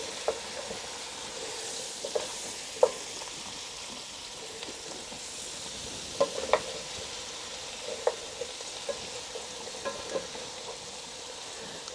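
Rougail saucisses with tomatoes and turmeric sizzles softly in a pan, with occasional scraping clinks of a spoon stirring through the steady frying hiss.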